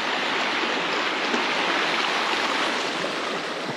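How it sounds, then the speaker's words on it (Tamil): River water flowing strongly at Parappathara in Kerala, a loud, steady rushing wash close by with no breaks and no voices. "இந்த இடத்துல கொஞ்சம் அதிகமாக தான் தண்ணி வந்துட்டுருக்கு"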